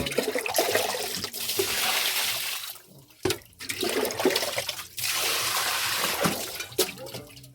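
Water is poured by hand into a toilet to flush it in several rushing gushes, each a few seconds long and separated by short pauses. Splashing and gurgling sit up close and loud, with no talking.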